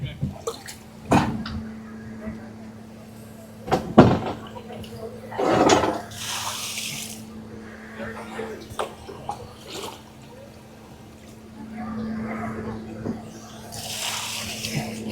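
Water sloshing and splashing in bursts as it is bailed out of a hole while digging up a buried 1976 time capsule, with a steady low hum underneath and people talking nearby.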